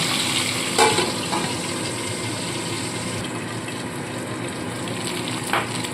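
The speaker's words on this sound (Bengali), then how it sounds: "মাছের মাথাগুলো সব একসাথে দিয়ে দিলাম দিয়ে এবার ঢাকা চাপা দিয়ে মাথাগুলো ভেজে তুলে নেব" Fish heads sizzle steadily in hot oil in a pan for a lentil dish, a continuous dense frying hiss with a few brief clinks, close and fairly loud with no talking.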